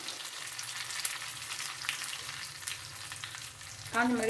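Curry leaves, green chillies and dried red chillies sizzling in hot oil, a fine crackling hiss filling the pan, close and fairly quiet, swelling with a sharper spit at the end.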